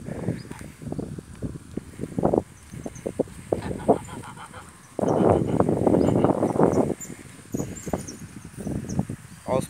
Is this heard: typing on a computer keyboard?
no